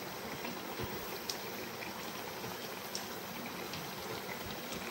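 Onion and plantain bhajji frying in a pan of hot oil make a continuous, even bubbling hiss with a few faint pops, close and moderately quiet, with no talking.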